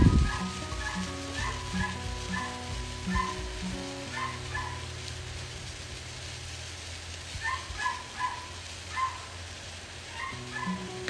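Oil heating in a pan for chicken satay peanut sauce gives a soft, continuous frying sizzle, joined throughout by recurring short tonal cries that sound like a cat meowing, with no talking.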